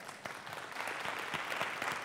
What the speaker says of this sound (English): Go, smart Nigerians, clap for yourself.